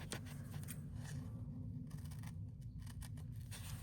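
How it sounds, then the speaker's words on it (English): Scissors trim the edges of paper for a handmade Christmas mini journal. There are a few soft snips and slicing sounds over a steady low background hum, close but quiet. "I think I'm just gonna put it on like that and then trim the edges off."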